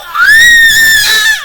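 A single loud, high-pitched scream rises and holds for over a second, shrill and close, then trails off.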